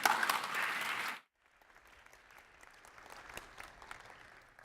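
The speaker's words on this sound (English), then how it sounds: "Clap." Audience applause at a PyCon 2017 conference talk, a dense burst of clapping for about a second that cuts off sharply, followed by quiet room tone.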